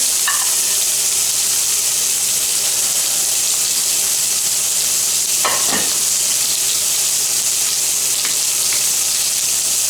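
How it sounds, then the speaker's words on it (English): Stuffed burgers sear on a grill with a steady, loud sizzle and crackle, plus a brief sharper hiss and pop partway through, and no talking. "These just need a little sear on them."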